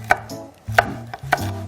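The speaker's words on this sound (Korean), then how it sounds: "그렇게 한 다음에 썰어주세요" A knife slices food on a cutting board: three distinct, evenly spaced chopping strokes, each a sharp click followed by a short dull scrape, close and clear with no voices.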